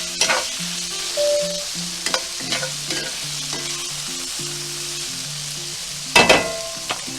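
Green beans sautéing with bacon in a hot pan, heard as a close, busy sizzle broken by repeated scraping stirs and a sharp clatter near the end, with no talking.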